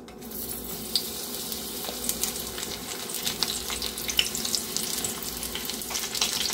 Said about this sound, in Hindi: तेल हमारा गर्म हो गया है, तो इसमें सबसे पहले हम कटे हुए बैगन को थोड़ा सा फ्राई करेंगे